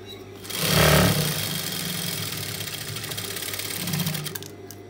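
Sewing machine stitching a sleeve with gathers, a close, loud burst of rapid stitching that settles into a steady mechanical whir.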